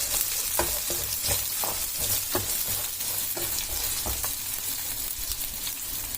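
Poppy seeds fry in a pan with a constant bright sizzle, while a spoon scrapes and stirs them in repeated short strokes.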